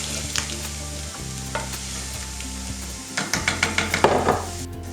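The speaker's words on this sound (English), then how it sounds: "To that I then add approximately a pint of vegetable stock," A pint of vegetable stock hits a hot pan of frying vegetables for a vegan shepherd's-style pie, a steady loud sizzle with bursts of crackle and a run of rhythmic stirring scrapes near the end.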